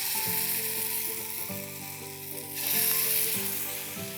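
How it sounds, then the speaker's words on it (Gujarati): Spoonfuls of batter sizzling in an appam maker, a steady frying hiss with faint clicking and tonal mechanical hum underneath, rising slightly toward the end, no one speaking. "હવે અપમ મેકરમાં 1 ચમચી બેટર મૂકીશું"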